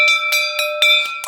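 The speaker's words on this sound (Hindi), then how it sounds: "ये जो घंटी हो है ना, ये पहलवानी में सबसे ज्यादा जरूरी होती है। जब ये 3 बार बज गई समझो मेन काम चालू है" A bell in a wrestling akhara strikes repeatedly with sharp metallic rings, about five or six crisp hits with ringing overtones, loud and close with no talking.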